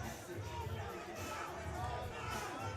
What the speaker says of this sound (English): Crowd's getting restless.